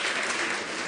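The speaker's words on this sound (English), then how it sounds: "Let's clap for our service" Congregation applause during a Sunday Eucharistic service at an Anglican church in Nungua, a short, dense burst of clapping heard alone.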